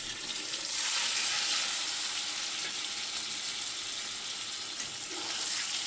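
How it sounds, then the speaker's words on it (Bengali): Boiled potatoes fry in hot oil with a steady, soft sizzle and hiss that holds evenly throughout, with no voices. "তেলটা গরম হয়ে গেছে, এর মধ্যে আমি এই যে সেদ্ধ করা আলু এটা দিয়ে দেবো"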